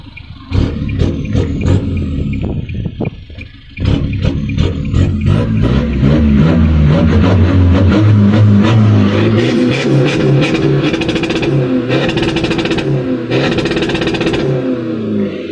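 A remapped 1.9-litre 2020 pickup engine revs loudly again and again, repeatedly slamming into the rev limiter with sharp rapid cutting stutters and crackles, close and dense throughout.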